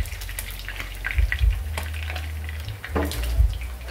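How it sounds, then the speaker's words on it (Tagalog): Kamigs fish frying in hot oil in a home kitchen, a steady close sizzle and crackle with a few louder spatters and utensil stirs, no talking. "ilagay na natin ang ating second batch mga kamigs na prituhin na"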